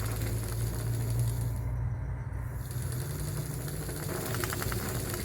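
Two small electric motors switched on by a phone remote control, a steady, even whirring hum that runs without a break and without speech.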